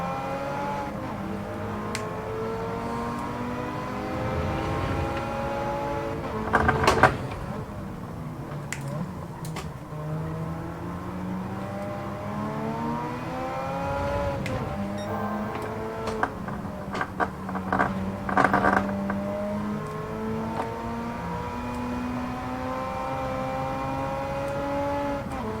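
Race car engines in Gran Turismo 7 droning steadily through a braking zone and overtaking move, with pitch falling and rising as cars brake and accelerate, plus a couple of brief louder bursts.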